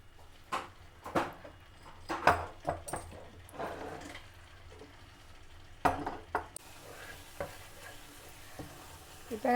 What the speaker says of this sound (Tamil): சின்ன நெருப்பில் வச்சு இப்படி காய்ச்சணும்.